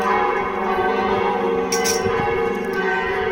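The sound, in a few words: church bells of Medjugorje ringing for evening mass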